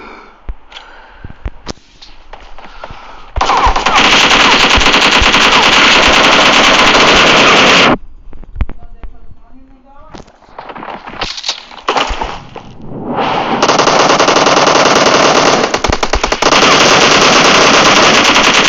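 Automatic gunfire in the video game PUBG during a team deathmatch: two long, loud, sustained bursts of rapid shots, separated by a few seconds of scattered quieter shots and movement.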